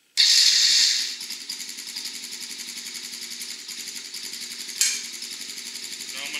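A Can-Am DS90X ATV, in neutral with the brake locked, starts up with a loud burst that settles into a steady, close, buzzing idle, with a brief rev spike near the end.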